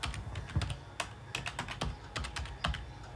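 Computer keyboard typing while writing code for an AI chatbot, a steady run of close, crisp key clicks in uneven bursts with no voices.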